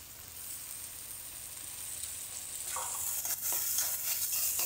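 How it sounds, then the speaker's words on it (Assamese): Chopped tomatoes frying in a pan with onion, garlic and green chili for an Assamese fish curry, a quiet hiss that swells into louder sizzling with stirring scrapes near the end, up close. "এইখিনি দি বিলাহীখিনি ভালকে ভাজি লম।"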